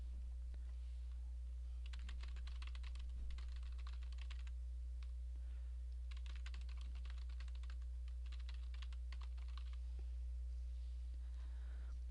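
Typing on a computer keyboard in bursts of quick, light clicks across the span, close but fairly quiet over a steady low electrical hum.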